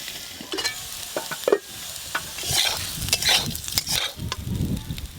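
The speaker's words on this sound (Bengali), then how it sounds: "এরকম করে নেড়ে নেড়ে অনেকক্ষণ থেকে ভাজা করলে তবেই ভালো ভাজাও হয় আর সেদ্ধও হয়" Potato and bitter gourd slices sizzle in a pan in a village-style kitchen while a spatula stirs and scrapes them in irregular bursts, close and clear with no talking.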